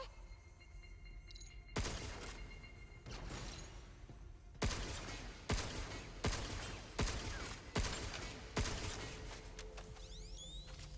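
Pistol fire in the video game Pragmata, a run of sharp, loud shots at irregular intervals with a metallic, shattering ring and mechanical clicks between them.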